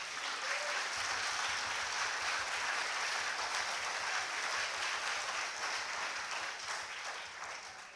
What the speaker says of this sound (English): let's give them a welcome applause